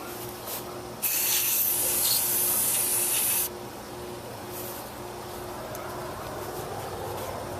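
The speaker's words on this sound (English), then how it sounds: "So I take carb cleaner and just kind of spray it out a little bit." A steady aerosol spray of carb cleaner hisses loudly for about two seconds while cleaning an Echo line trimmer, then cuts off, leaving a quiet background hum.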